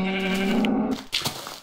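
A sheep in Minecraft Alpha gives one drawn-out, wavering bleat lasting nearly a second, loud and close, followed by brief soft game noises.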